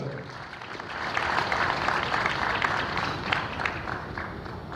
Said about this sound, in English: can give a huge round of applause to this event as well